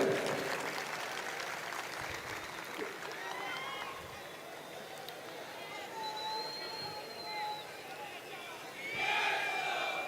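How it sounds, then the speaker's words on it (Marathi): Large crowd at a political rally in Kalyan for a politician, a sustained roar of cheering and shouting with voices over it, swelling louder near the end. "टाळ्या जोरदार झाल्या पाहिजेत"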